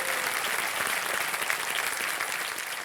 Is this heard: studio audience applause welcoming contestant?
yes